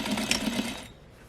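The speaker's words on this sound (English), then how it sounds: "I am going to just simply sew a 1/2 inch seam allowance" A sewing machine stitches a half-inch seam through fabric, a steady mechanical whir lasting under a second before it stops.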